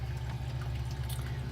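Water flows steadily through an aquarium sump return line, a low, continuous gurgling rush with a soft hiss above, unchanging and moderately quiet.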